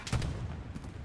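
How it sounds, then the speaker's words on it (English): Explosions in the World War II shooter Hell Let Loose, with a close, heavy boom at the start followed by a second softer blast, over a dense background rumble of battle. "More explosions."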